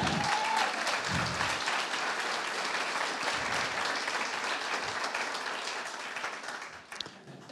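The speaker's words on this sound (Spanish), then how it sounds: "Y termine eso con un aplauso, por favor." Loud, sustained applause from a large church congregation, steady clapping throughout that thins out toward the end.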